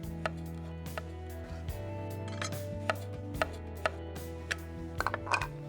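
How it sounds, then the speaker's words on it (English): A knife slices through firm, plump tomatoes on a board, giving sharp, separate chops at an uneven pace over a steady low kitchen hum, with no talking. "I have 2 nice, firm, plump tomatoes, and I'm going to cut them like this"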